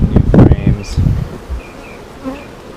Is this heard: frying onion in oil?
no